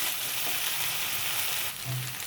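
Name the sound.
sautéing raw banana vegetable in a pan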